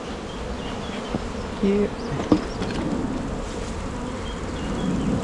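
A dense, steady drone of many honeybees fills an open beehive during an inspection, close and continuous, with a few brief knocks and a short spoken word.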